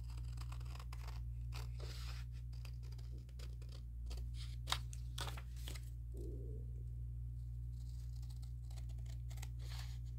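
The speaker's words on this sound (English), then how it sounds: "that's why I'm just trimming around the outside edges" Scissors trim around the outside edges of a paper napkin with a steady run of crisp snips and light paper rustles, all over a constant low hum, with no voices.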